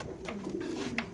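A pigeon at a pigeon market gives a short, soft, close coo, a low rolling call with a couple of brief pulses, heard alone.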